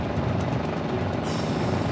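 A helicopter's rotor thrums steadily in a rapid, pulsing chop, sustained at moderate loudness throughout, in the video game Uncharted: The Lost Legacy.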